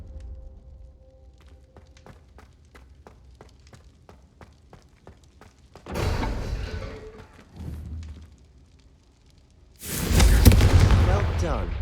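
Confringo blasting spell explosions in Hogwarts Legacy: a burst of loud booms around the middle, a smaller blast after, and a heavy, rumbling explosion near the end, preceded by light rhythmic footsteps and ticking.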